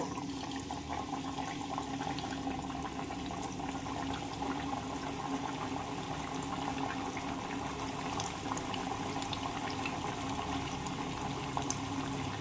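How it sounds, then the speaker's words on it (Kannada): Chakli made from leftover rice frying in hot oil over a low flame, a steady, even bubbling sizzle that holds at a constant level throughout with no talking. "ಉರಿ ಸಣ್ಣ ಇಟ್ಕೊಂಡು ಫ್ರೈ ಮಾಡ್ಕೋರಿ"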